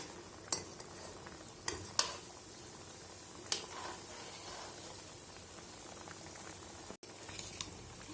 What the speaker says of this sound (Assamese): এইবাৰ ভালদৰে উতলিবলৈ দিম। উতলি আছে এয়া।